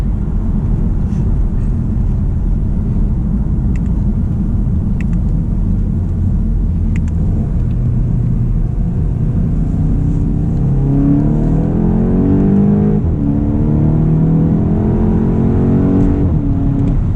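A 2024 Volkswagen GTI MK8 with a DCT gearbox accelerates at half throttle in third gear, its engine a steady, close cabin drone that rises gradually in pitch toward the end, with no talking.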